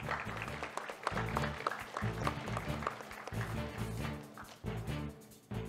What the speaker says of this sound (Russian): Еще раз бурные аплодисменты.